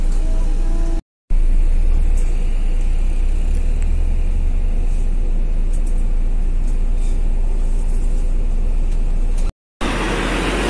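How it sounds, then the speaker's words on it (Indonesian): Inside a tour bus travelling on the highway, a constant low engine and road rumble with faint rattles carries on for several seconds, broken by two brief gaps of silence. "Bis pariwisata."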